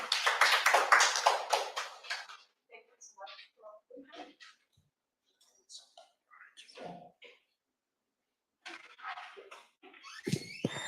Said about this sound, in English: Another round of applause for Prof. Bika